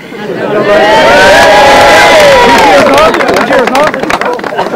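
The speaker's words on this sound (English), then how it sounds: "Round of applause." A loud, close crowd at a minor hurling league cup presentation breaks into cheering and whooping shouts, with clapping growing stronger and more rhythmic as the cheers fade.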